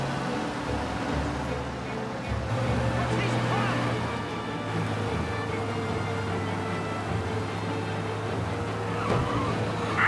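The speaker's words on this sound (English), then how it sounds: "We lose them by driving real fast and getting clear of them." A car races at high speed through a police chase in the Mafia Definitive Edition video game, a steady loud engine drone with tire noise running throughout under spoken dialogue.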